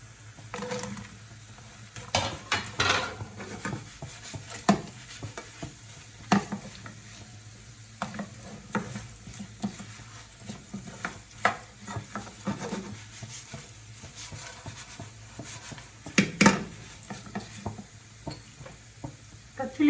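Deep-fried prawns are stirred in a pan over a low flame for Prawns 65, with repeated scraping spoon strokes over a soft, steady sizzle.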